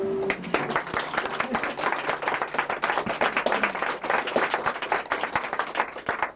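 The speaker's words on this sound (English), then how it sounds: "give Jane a lovely applause" An audience at a cookery and health weekend breaks into warm applause, many hands clapping densely and evenly for several seconds, close and lively.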